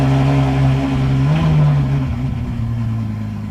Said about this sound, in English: That's one hella cold start.